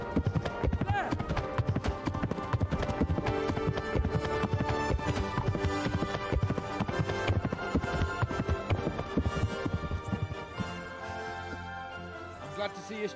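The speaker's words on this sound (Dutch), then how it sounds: "dat paardgeluid is ineens hard" Horse hooves clip-clopping in the medieval video game Kingdom Come: Deliverance, a steady loud rhythmic beat that carries on throughout and is layered with game sounds and background voices.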